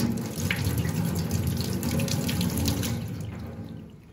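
Tap water runs steadily into a sink as a drypoint printmaking plate is washed by hand, a close, continuous splashing stream that fades toward the end.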